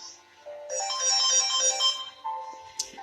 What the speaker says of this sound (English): But Mom's getting a phone call.